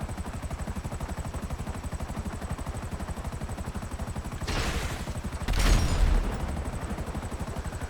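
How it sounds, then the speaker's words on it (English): Video game gunfire at targets, a steady rapid rattling fusillade running throughout, with two louder bursts of shots midway. "Partly missed him with all those shots."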